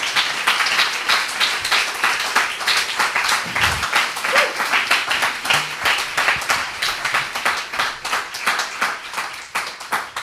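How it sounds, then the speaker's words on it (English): A conference audience claps steadily for about ten seconds, a dense, even round of applause in a room that continues without pause. "So big applause for them"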